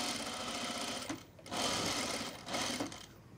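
A sewing machine stitching with a fairly long stitch length, its needle rattling in rapid runs that stop briefly between bursts, close and moderately quiet, with no talk.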